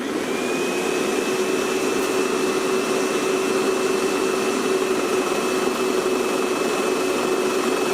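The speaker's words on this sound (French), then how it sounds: "le sélecteur en position prime et je vais amorcer la pompe" Airless paint sprayer pump priming with the selector set to prime and the suction strainer in the paint pot, a steady loud motorized drone with a constant whine that runs unbroken throughout.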